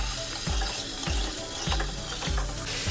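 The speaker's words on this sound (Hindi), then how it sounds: "पानी डालेंगे।" Water poured into a cooking pot holding frying mutton with garlic paste, salt, turmeric, red chilli, cumin and coriander, a loud sizzling hiss and gush with rhythmic splashes, close and without talk.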